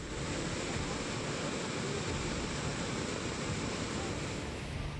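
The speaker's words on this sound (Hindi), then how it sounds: "सैलाब का ये शोर डरा रहा है।" The Bhilangana river in Tehri, Uttarakhand, flooded after a cloudburst and heavy rain, a steady, dense roar of rushing water, unbroken and fairly distant, with no voices.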